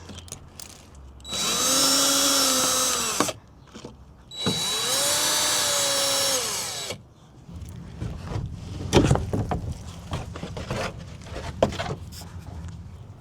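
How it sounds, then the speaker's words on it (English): A power drill fitted with a 7mm socket spins out underbody screws on a Ford Escape, two sustained whirring bursts of about two seconds each, close and loud, followed by quieter clatter and handling noises. "use a drill bit with a socket"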